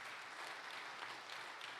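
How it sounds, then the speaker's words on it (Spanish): Church congregation applauding steadily, a dense wash of clapping from a room full of worshippers, continuous and fairly soft throughout with no voice on top. "Denle ese aplauso al Señor con todo su corazón."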